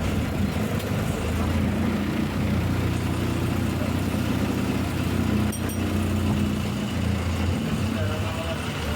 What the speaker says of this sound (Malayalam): അപ്പോൾ ഡ്രൈവർ ഇതാ വണ്ടി സ്റ്റാർട്ടാക്കി.